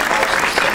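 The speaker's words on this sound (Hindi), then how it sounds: "जोरदार ताली है" Enthusiastic applause from an audience at a Sikh arts and film awards event in India: dense, continuous clapping at a steady, fairly loud level.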